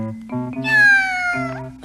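A cat gives a single drawn-out, rising and falling meow, loud and close, over a faint background of other tones.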